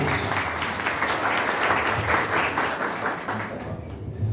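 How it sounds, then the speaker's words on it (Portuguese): A seminar audience bursts into warm applause for a speaker, with dense clapping that swells, holds and then begins to thin out toward the end. "uma salva de palmas para Paulo de Tarso"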